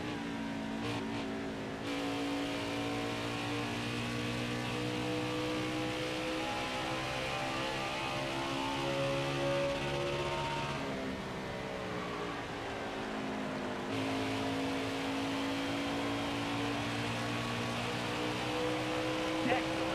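Truck engine revving hard in Nascar Heat 5 at Phoenix, a loud sustained whine with shifting pitch as the engine pushes near its limit, with someone talking over it.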